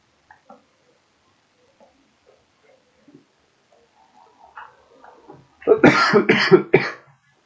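A few faint scattered sounds, then a burst of loud, harsh coughs close to the listener, several in quick succession.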